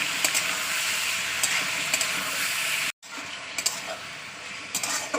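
Meat stirred in hot oil, a steady close sizzle with scattered clicks and scrapes from stirring, broken by a brief cut in the middle before the frying resumes.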